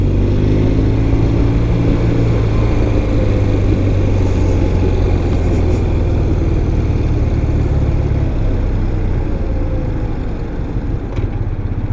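A 1993 BMW R100GS motorcycle in Mystic Red pulls through second gear with a loud, close engine drone. The low boxer-twin rumble rises steadily in pitch, then eases off slightly toward the end.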